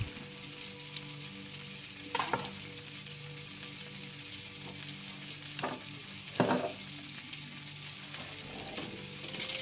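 Mushrooms with coarse salt and garlic sizzle steadily in a cast iron pan, a constant frying hiss broken by a few louder stirring scrapes, with no voices.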